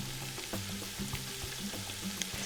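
Tomatoes, jalapenos and plenty of garlic sizzle in a frying pan while being stirred, giving a steady close frying hiss with soft scraping and clicks, no talking.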